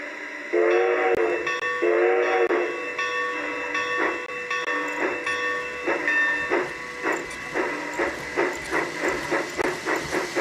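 A model train runs on its track with a whistle toot early on, then a rhythmic chuffing clatter that speeds up steadily, moderately close.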